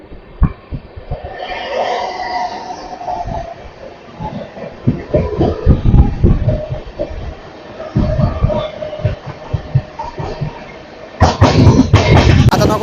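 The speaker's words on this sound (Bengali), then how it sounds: "আমাদের ট্রেন ছেড়ে দিল পাঁশকুড়া" Shalimar-Bhojudih Aranyak Express, an LHB rake, pulling out of Panskura station, its wheels knocking in a steady, fairly loud rhythm with a sharper, brighter rattle swelling near the end.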